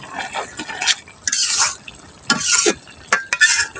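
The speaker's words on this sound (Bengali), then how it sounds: "ভালোভাবে নাড়াচাড়া করে দিতেছি" Taro stolon and mango curry is stirred in a pan in bursts of wet scraping and sloshing, with short quiet gaps between strokes, close and without talk.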